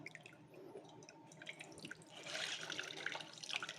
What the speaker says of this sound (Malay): Perah dia sampai habis air.